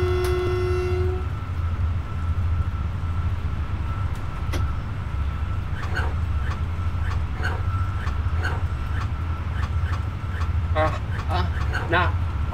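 A regional train horn sounds in Train Simulator 2022 on the Köln to Bonn route, a short tone early on followed by rail running noise and repeated clicks and bursts toward the end, with someone talking throughout.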